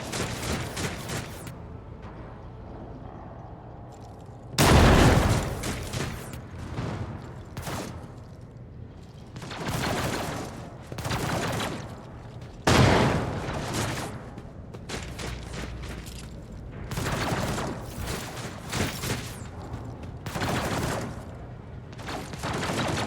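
Bursts of gunfire and booming shots in a Warhammer 40,000: Rogue Trader battle, heavy volleys rising and falling over about twenty seconds with several sharp loud impacts and quieter rumbling between.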